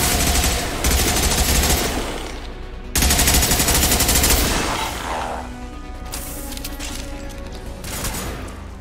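Sustained automatic gunfire in a Mass Effect 2 combat firefight, dense bursts of rapid shots with a break near three seconds, then continuing rattling fire and impacts at slightly lower level.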